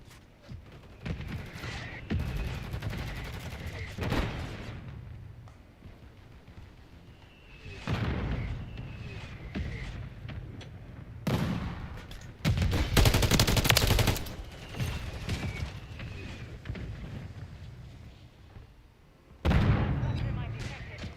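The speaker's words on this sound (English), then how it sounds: "Hostile mortar strike near your position." Mortar strike explosions and gunfire in Call of Duty Modern Warfare III, with repeated heavy blasts and rattling shots in several loud waves, mixed with game voice lines and busy battlefield noise.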